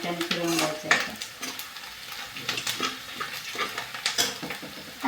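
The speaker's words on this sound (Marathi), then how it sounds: "कांदा हलवून घ्यायचा. 1-2 वेळा तर चमच्याने फिरवून घ्यायचा." A spoon stirs onion in a frying pan, giving uneven scraping strokes and light clinks over a soft sizzle, close and intermittent with no talking.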